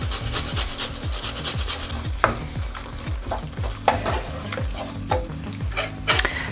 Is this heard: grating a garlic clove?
yes